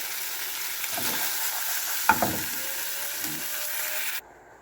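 Steady sizzle of a salmon head frying in hot oil, with a few soft clinks and scrapes partway through before the sizzling cuts off.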